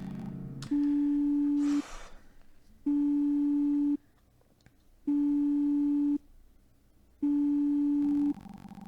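A telephone busy signal during an unanswered emergency call repeats four times, steady tones about a second long separated by short silences, loud and close, with no voices.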